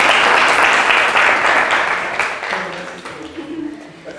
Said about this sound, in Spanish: Última vez, un aplauso a Juan.